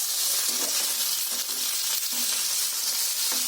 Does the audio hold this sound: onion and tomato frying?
yes